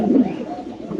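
A large domestic pigeon at a home loft gives a short, low, throaty coo, close and clear over faint background.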